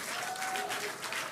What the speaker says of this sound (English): The crowd here at Mission Control Hawthorne also getting excited, just like us.